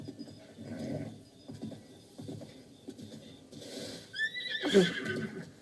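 A horse in The Legend of Zelda: Breath of the Wild lets out a single loud, shrill neigh near the end, after a stretch of soft, muffled hoof sounds.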